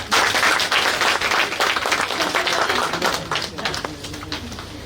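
Audience applause at an award ceremony for a media conference and journalists' gathering in Pune: dense, steady clapping from a large crowd that holds strong for about four seconds, then tapers off a little.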